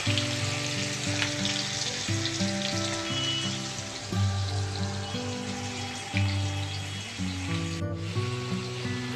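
Potatoes seasoned with salt and turmeric sizzle steadily in hot oil, a dense continuous frying hiss with a brief dip near the end, underneath a soft background music bed.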